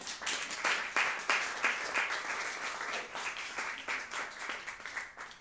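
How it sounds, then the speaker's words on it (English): A small concert audience at the Loft Hostel claps warmly, with distinct individual hand claps close by that swell at first and then gradually thin out. "so applause please for that"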